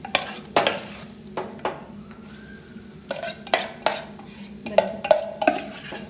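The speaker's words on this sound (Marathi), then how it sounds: "आता आपण मॅरिनेट केलेलं मशरूम टाकूयात" Marinated mushrooms are stirred into masala in a pan, with a spoon repeatedly scraping and clattering against the metal over a soft sizzle in a steady, uneven rhythm, close and fairly loud.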